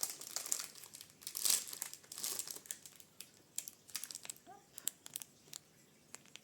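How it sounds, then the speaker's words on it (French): Crinkly plastic packaging of a lot of small stickers being handled and opened, with irregular close crackles and rustles that come and go in short bursts, fairly quiet overall. "Je vais essayer d'ouvrir un peu pour voir."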